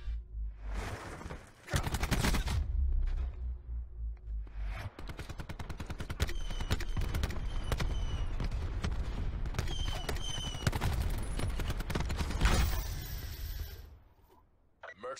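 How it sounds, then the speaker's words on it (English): Sustained bursts of gunfire aimed at the player in an online shooter video game, loud rapid automatic shots rattling almost continuously for most of the stretch, with a brief pause early on and fading near the end. "Someone is shooting me on purpose."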